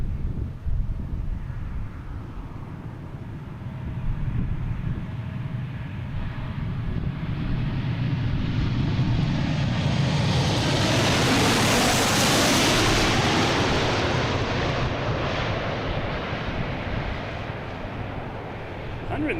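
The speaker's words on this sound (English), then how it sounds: "coming sneaking behind us, we have a Delta from Cancun, 737, flight 626" A Delta Boeing 737 airliner arriving from Cancun at Boston Logan roars past, its broadband jet noise building to a loud peak midway and fading slowly, with wind buffeting the microphone.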